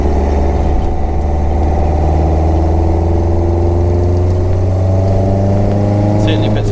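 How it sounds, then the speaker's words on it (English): A Lotus Elan Plus 2S Zetec restomod spyder engine drones loud and close at a steady idle-to-cruise pitch, a continuous rumbling hum that fills the whole stretch without pause. "the sound is quite similar to an original Lotus twin cam engine"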